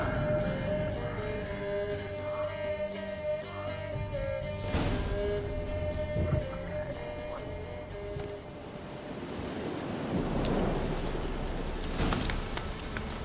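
Rainstorm in a Witcher 3 cinematic: a dense, continuous wash of rain and gusting noise with a few heavier swells, with no voices.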